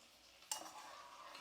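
Mutton being stirred in a cooking pot, a soft scrape at the start followed by faint ongoing sizzling, quiet and close with no talking.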